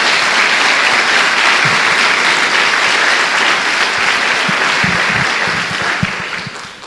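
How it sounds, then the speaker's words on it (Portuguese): A church congregation applauds, with dense, sustained clapping that continues for several seconds and then begins to taper off near the end. "Dê uma salva de palmas a Jesus."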